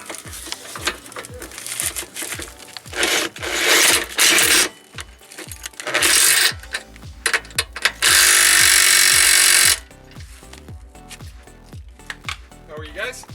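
Ratchet or impact tool tightening a nut on a Hyundai Elantra rear strut, with rapid clicking bursts and rattling whirs, including a sustained loud buzz, close up with pauses between runs.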